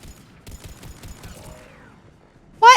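Rapid mechanical clicks and a short burst of gunfire from Mass Effect 3, a quiet clattering run followed by a loud sharp blast at the very end.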